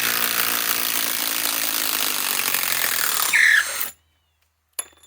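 A compact impact wrench removing a fastener rattles and hammers loudly and continuously for a few seconds, then cuts off abruptly, leaving a brief silence and a single click.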